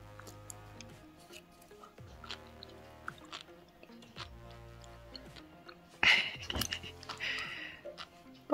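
Crunchy sea grapes (Caulerpa lentillifera) are chewed close to the mic, with soft, intermittent crunches and clicks over a quiet background, then a louder burst of crunching near the end.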